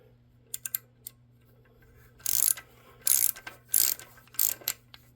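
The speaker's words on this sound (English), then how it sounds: "You want to torque it down to the proper spec." A ratchet wrench clicks as a spark plug is torqued down on a 2013 Honda Civic 1.8L engine: a few light ticks, then four bursts of rapid ratcheting close up in a quiet space.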